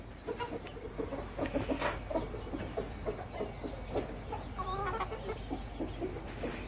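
Free-range chickens feed on grass and cluck steadily nearby, with overlapping soft calls and a few higher notes in a continuous outdoor murmur.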